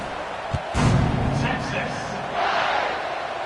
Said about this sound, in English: you always want to get the home crowd jacked up and get them excited